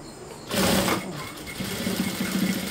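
A domestic sewing machine stitching a frufru rug, its motor whirring steadily and close up with a rapid needle chatter, rising briefly louder before settling into an even hum.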